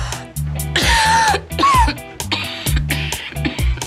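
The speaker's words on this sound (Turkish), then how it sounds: "Öksürük tuttu, bir şey demedim." A person coughs and clears their throat repeatedly, close and loud, in a series of harsh bursts and rasps.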